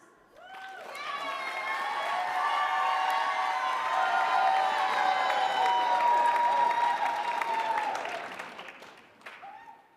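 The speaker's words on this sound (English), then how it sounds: "Give a round of applause for Vice President of Quality and Product Safety for Raytheon Missile Defense, Dora Nelson." An audience at an awards ceremony breaks into sustained applause that swells, holds steady for several seconds, then tapers off, a dense wash of clapping with some cheering heard from the hall.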